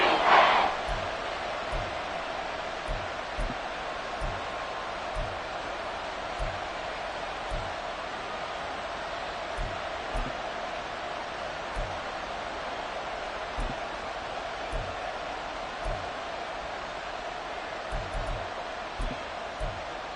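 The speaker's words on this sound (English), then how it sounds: "The crowd getting into it as we come up on a big 3rd down" A football stadium crowd roars steadily in a dense, wash-like sustained din with faint rhythmic thumps beneath, loudest at the very start and holding at an even level throughout.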